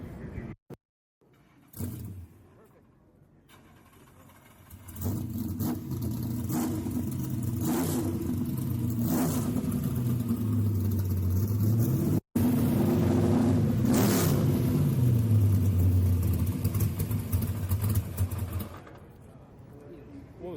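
Camaro race car with a small block Chevy engine at a speed festival, heard as a loud, close engine rising and falling through repeated revs over about fourteen seconds, with quieter sound before and after.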